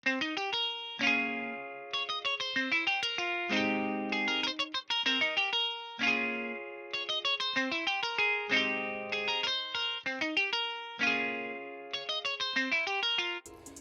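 A rhythmic plucked guitar pattern from the Session Guitarist Kontakt library, bright picked notes and chords repeating in a steady groove, with a shimmering, echoing effect and no voices.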